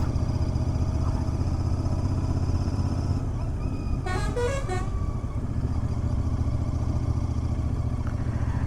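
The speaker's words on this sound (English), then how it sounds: "the exhaust sound of Interceptor is quite soothing to the ears" A steady, loud Royal Enfield Interceptor 650 motorcycle exhaust drones throughout while riding, with a brief horn honk from passing traffic midway.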